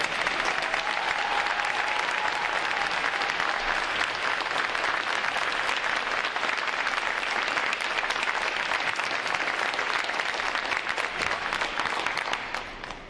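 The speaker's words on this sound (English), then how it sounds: "Let's give them a round of applause." A large audience at a U.S. Navy Recruit Training Command graduation gives sustained, dense applause for standing veterans, a steady roar of many hands that holds level for about twelve seconds before starting to fade.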